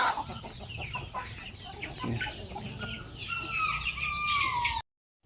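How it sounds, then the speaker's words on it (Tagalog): Chickens in a pen, waiting for food during the rainy season, cluck and call in overlapping bursts over a continuous background hum, with a few drawn-out higher calls toward the end. "yan yung iba nating mga manok, naghihintay na ng pagkain."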